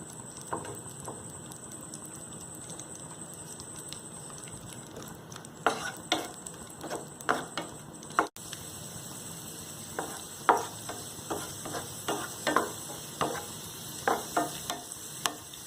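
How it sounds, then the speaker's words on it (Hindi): Raisins frying in hot ghee on a low flame for sheer khurma, a soft steady sizzle with a rising run of light spatula taps and scrapes in the second half. "इसमें ऐड करें रेजन यानी कि किशमिश। और इसे जस्ट लो फ्लेम में फ्राई करें।"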